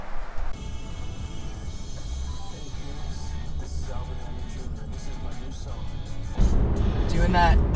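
A car driven on an UberEats delivery trip, its engine and road noise humming steadily inside the cabin, rising louder near the end, while people talk over it.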